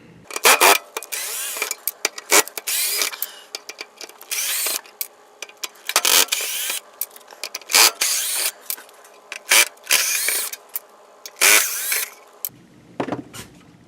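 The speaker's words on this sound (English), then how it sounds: "Next is this metal shell. I believe it's called a heat shield. You will need to remove 7 screws from it." Screws are driven out of the metal heat shield of an NES console with a power screwdriver, in repeated loud whirring bursts separated by short pauses and metallic clicks.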